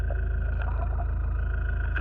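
A sailboat's Yanmar-style inboard diesel engine idles steadily after starting, a continuous low throbbing drone close by with no talk over it.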